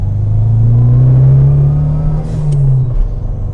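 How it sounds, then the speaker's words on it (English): An old-school turbo car engine, from a Fiat Uno Turbo versus Punto GT comparison, revs with a loud deep drone that climbs, holds, then drops away. "All old school turbo cars sound cool."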